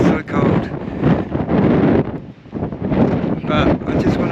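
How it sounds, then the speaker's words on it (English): Cold wind gusting across the snowy plains high in the Snowy Mountains around Kiandra, 1400 meters up, buffeting the microphone in loud, rough bursts that swell and ease over a few seconds, with no one talking. "That wind is so cold."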